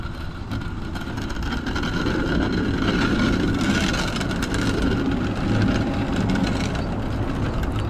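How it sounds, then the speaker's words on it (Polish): Historic Warsaw tram cars numbered 1000 and 1001 pulling into a stop during a charity ride, a steady loud rumble of wheels and motor with rising and falling hiss, close and continuous. "I zdaje się, że ten tramwaj już tutaj podjeżdża."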